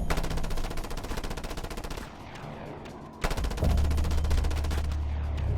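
Rapid sustained bursts of an infinite-ammo mounted machine gun in the video game Just Cause 2, loud rattling fire that pauses briefly, then resumes with a heavy low rumble of explosions.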